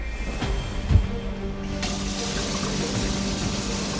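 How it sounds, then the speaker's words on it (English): Water runs steadily from a tap into a kitchen sink during a worktop and sink installation, a continuous close rushing with a brief clunk near the start. "gonna open the water"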